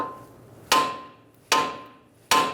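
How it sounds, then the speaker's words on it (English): A hammer whacks a front suspension part near the castle nut and tie rod on a 2000-2007 Ford Taurus, three sharp metallic blows spaced about a second apart, each ringing briefly before decaying, close and loud with no talk. "so now you want to whack it right here"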